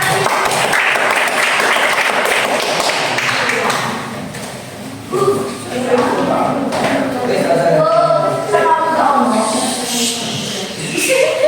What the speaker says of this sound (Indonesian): Tepuk tangan untuk kelompok RA